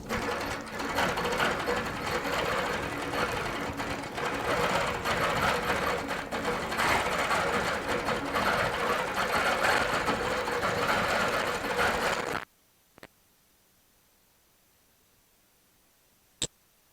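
A Baby Lock Regent sit-down long arm quilting machine stitches through bulky quilt layers with a loud, steady rapid whir for about twelve seconds, then stops abruptly, followed by near silence and two faint clicks.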